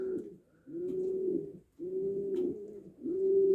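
Horseman pigeons cooing in a loft, deep rolling coos repeated in long phrases with brief breaks between, close and clear with no talk.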